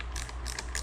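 A ratchet loosens the nut on the underside of a KP Mini 150 motorcycle turn signal, producing a brief burst of close, rapid clicking pawl ticks.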